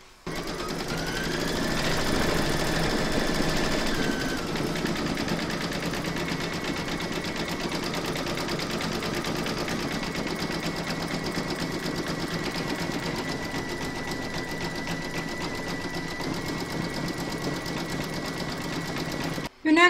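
A computerised embroidery machine stitches the face details of a large llama appliqué in a hoop, giving a continuous, even mechanical whirr and rapid needle chatter for the whole stretch with no breaks.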